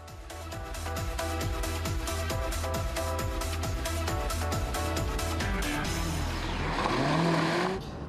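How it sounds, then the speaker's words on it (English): A Mazda MX-5 soft-top sports car drives with a steady, buzzy engine drone and a rhythmic pulse, loud and close, before the revs climb and sweep upward near the end. "Dean thinks it sounds almost like he's test-driving a revival of the Isetta microcar"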